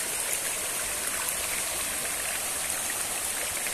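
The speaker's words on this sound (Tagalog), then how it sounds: "Tubig." Cold stream water flows through rural farmland, a steady, close, full rush of splashing and bubbling with no pauses and no voices.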